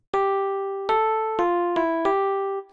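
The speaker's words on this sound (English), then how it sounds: "I went ahead and just chose the Electric Stage MK2 Mark II electric piano." An Electric Stage MK2 Mark II electric piano plays a short melody of five bell-like struck notes with sustained tines, clear and alone.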